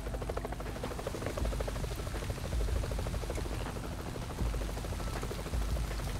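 Helicopter rotor chop in the video game Splinter Cell Double Agent, a steady rhythmic whir with low thumping, continuous and fairly loud throughout with no talk.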